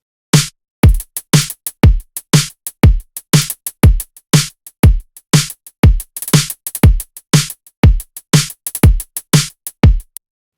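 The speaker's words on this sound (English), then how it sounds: "Kick drum and snare, pretty simple, nothing crazy going on there. We've got a hi-hat." A drum-machine beat built in a drum machine designer: punchy kick drum and snare hits in a steady, loud pattern with hi-hat ticks between them, repeating evenly throughout with no voices.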